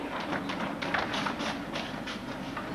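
A train passes close by with a steady rumbling roar and a rhythmic clickety-clack of wheels over rail joints, loud and continuous, with no speech.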